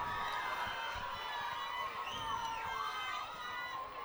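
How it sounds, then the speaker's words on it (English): Crowd at a high school football game cheering and shouting as a steady, dense roar that holds loud throughout, with whistles and voices rising and dipping inside it. "their crowd finally comes alive"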